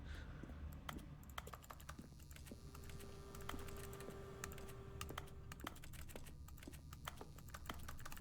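Rapid computer keyboard typing effects in The Stanley Parable play as mouse clicks are made. The irregular key clicks are crisp and close, continuing steadily over a quiet background with no talk.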